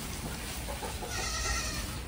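Goats crowd into a pen at feeding time, bleating faintly beneath a steady wash of rushing background noise.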